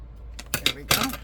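Scissors snip through collage paper in a few quick, close metallic cuts, with short gaps between them and no voices.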